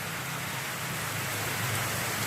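Heavy rain falls continuously ahead of a typhoon, a loud, unbroken wash of drops on surfaces, close and alone.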